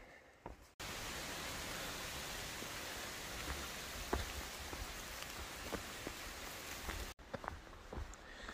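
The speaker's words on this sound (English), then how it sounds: "So I am just hiking through light rain and wind." Steady hiss of light rain with a gusty wind rush on a hiking trail, interrupted by a few faint taps and soft footsteps, no voices.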